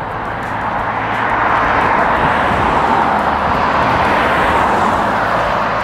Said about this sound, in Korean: 차 소리가 꽤 시끄럽죠? 교통량이 꽤 많은 곳입니다.